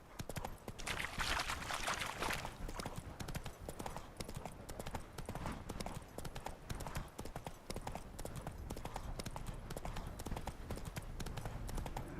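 Geralt's horse Roach's hooves clip-clopping in a steady, continuous rhythm across the whole stretch in the video game The Witcher 3: Hearts of Stone, with faint voices mixed in.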